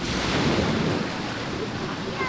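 Ocean waves breaking on a beach in Majorca with strong wind rushing across the microphone, a continuous loud surf wash.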